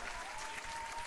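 An audience applauds a music performer, a short, faint, even spread of clapping from a small crowd, heard on its own without talk.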